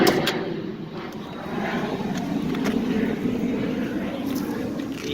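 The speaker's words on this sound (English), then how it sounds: "And it's a great running little engine." A small engine idles and runs steadily at close range, a low continuous hum and rumble holding an even level for about five seconds, with faint higher clicks and noise over it.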